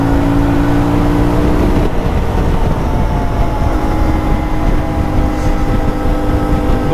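A CFMOTO 450 MT motorcycle rides over a rough, potholed road, its engine and road rumble loud and continuous, with a shift in tone about two seconds in.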